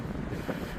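Wind rushes and buffets the microphone in a constant, dense roar with no voices.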